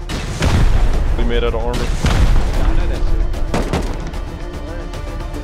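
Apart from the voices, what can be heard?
rocket explosions against a bunker, from video game Rust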